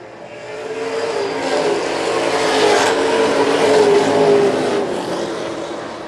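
Pro stock race cars run side by side on a track, their engines building into a loud, sustained roar as they pass close by before the sound eases slightly.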